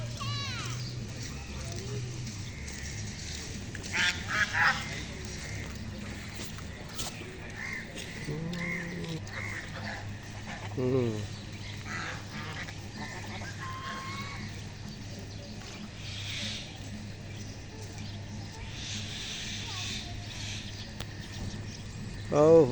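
Large geese, around 5 kg each, and native ducks graze on a small goose farm in Mohakhali, Dhaka. Their honking and quacking calls come intermittently over a steady low background hum.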